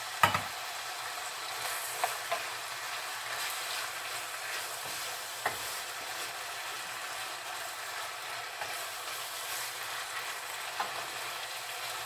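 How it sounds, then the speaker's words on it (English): Enchilada sauce heats in a pan on the stove, giving a steady broadband sizzle and bubbling hiss through the whole stretch, with a few faint clicks and scrapes scattered over it and no talking. "you're just kind of heating up the enchilada sauce"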